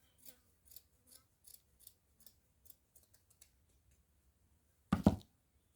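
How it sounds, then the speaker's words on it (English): Scissors snip through an old sock in a quick series of close, crisp cuts, then fall quiet, followed by one louder handling rustle near the end. "I'm gonna cut here."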